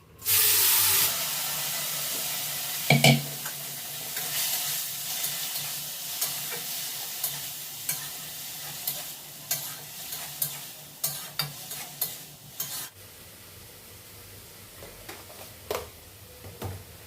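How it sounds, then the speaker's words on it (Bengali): Boiled mung beans tempered in hot oil, a sustained sizzle with repeated scraping stirs of a spatula against the pan, softening after a sharp start, no talking. "মুগ কড়াইটা ফোড়ন দিয়ে দেবো"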